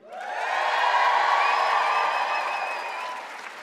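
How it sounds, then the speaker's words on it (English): Teachers in a lecture audience cheer and applaud, a dense sustained wash of clapping, whoops and shouts that swells quickly and holds steady before slowly easing. "let's start off with some shout outs from the crowd"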